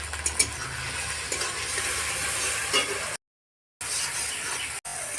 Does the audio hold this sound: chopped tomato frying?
yes